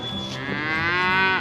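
Highland cattle at feeding time with fresh hay give a single drawn-out moo, close and loud, rising and then falling away at the end.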